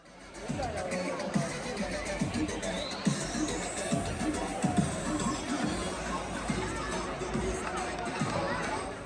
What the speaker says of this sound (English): They cheer the same for every single runner that comes through